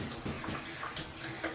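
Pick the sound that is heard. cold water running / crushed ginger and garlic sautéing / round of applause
cold water running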